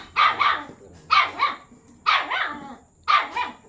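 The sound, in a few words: puppy barking angrily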